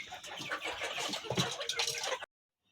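Chickens cluck and chatter busily nearby while pecking at cut amaranth stem leaves and Malabar spinach leaves, a dense run of overlapping calls that cuts off abruptly near the end.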